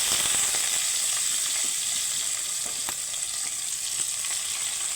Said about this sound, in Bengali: এখানে আমি একটা কড়াই বসিয়ে দিয়েছি এখন আমি দিয়ে দিব আগে থেকে কেটে রাখা কুচুনো পেঁয়াজ